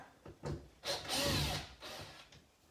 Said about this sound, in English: I use a drill to speed it up, you don't need to.